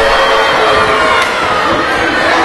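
A packed crowd at a Border City Wrestling show in Assumption High's gym in Windsor keeps up a loud, dense, echoing roar that could be a chant, with no break across the short stretch.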